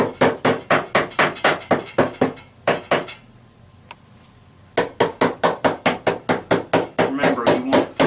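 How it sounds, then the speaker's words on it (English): A hammer taps drawer parts flush during assembly of a standard base drawer, with rapid, sharp, evenly spaced knocks in two bursts separated by a brief quiet pause, loud and close. "you'll need the hammer to just tap it in."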